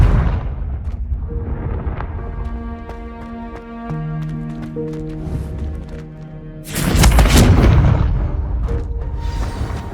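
Confringo fire spell in Hogwarts Legacy, a sudden loud booming burst that erupts after a sustained musical tone and rumbles on for a few seconds.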